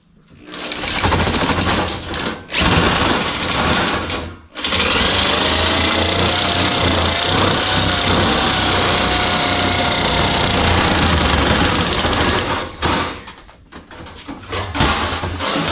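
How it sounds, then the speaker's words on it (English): Electric double-cut shears chew through sheet metal for a 1957 Chevy 210 station wagon floor pan, with a loud, buzzing motor whine in several bursts separated by short pauses, up close. "We will use this electric pair of double cuts to achieve this"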